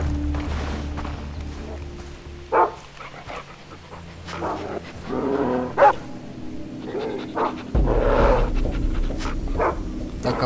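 A dog in the video game Far Cry 3 pants and gives several loud barks and whimpers, alongside game sounds and a steady low hum.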